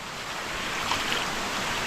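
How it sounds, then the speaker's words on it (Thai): A hidden waterfall in Nong Khai, Thailand, roars as a steady, close, broadband rush of falling water, unbroken and with no talk over it. "น้ำตกครับผม"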